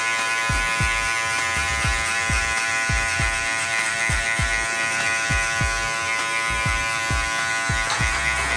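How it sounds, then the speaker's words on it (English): Babyliss hair clipper with a guard buzzing steadily and loudly up close while cutting a skin fade, with a regular pulsing rhythm as it passes repeatedly through the hair. "This is the Babyliss clipper."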